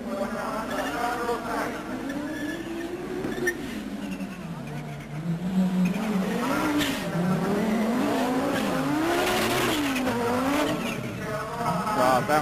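Vintage short-wheelbase Audi Quattro rally cars race on a rallycross stage, engines revving and rising and falling in pitch as they accelerate and brake, loud and close, with a commentator talking over them.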